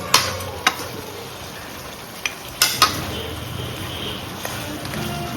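Onion, green chili and ginger-garlic paste stirred together in a hot pan, a steady sizzle punctuated by several sharp taps and scrapes of a spoon on the pan, close up with no speech.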